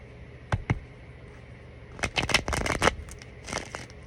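Tarot cards being shuffled by hand: a couple of quick separate riffles, a pause, then a longer dense burst of flicking and snapping followed by a few trailing taps, close and alone.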